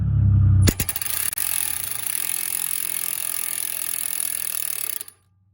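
A ratchet cranks out a stubborn CV axle on a 2005-2010 Scion tC passenger side, a dense run of rapid metallic clicks lasting several seconds close up, then stopping abruptly.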